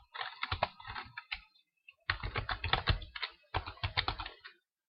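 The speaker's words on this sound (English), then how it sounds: "Can't spell and type at the same time I'm talking." Typing on a computer keyboard, close and clear, in three quick bursts of rapid key clicks separated by short pauses, with no talking.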